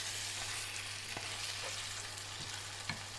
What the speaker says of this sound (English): Add in a tablespoon of tangy malt vinegar while frying the meat.